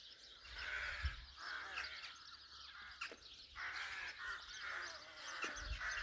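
Crows cawing in a tree-filled garden, repeated harsh calls from a few birds at moderate distance, coming in irregular groups with quieter gaps between them.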